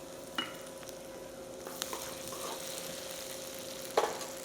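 Ginger garlic paste and onions sauté quietly in a pan for chettinad mint chicken, a faint low sizzle with a few soft clicks and taps of a spoon against the pan.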